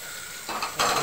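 Tomatoes go into a pan of frying okra, and the sizzle jumps louder in two steps as they hit the hot oil, followed by a stirring scrape, close and steady.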